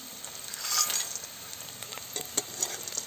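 Badi, dried lentil dumplings, frying with onion and chilli in a pan, making a soft continuous sizzle with a few sharper scrapes and clinks from stirring near the end.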